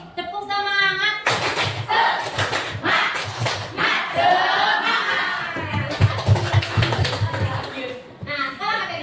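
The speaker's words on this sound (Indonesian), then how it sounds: "Tepuk semangat" A school class claps a rhythmic spirit clap in a classroom, steady patterned beats running under loud group chanting and voices throughout, close and energetic.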